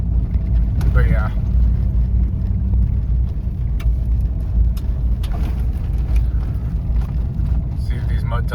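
A Ram 1500 pickup on mud tires drives along, giving a steady, loud low rumble of engine and tire roar throughout, with a brief voice near the start.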